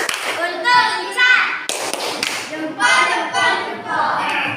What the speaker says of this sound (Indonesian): Tepuk jempol untuk Nur Azizah.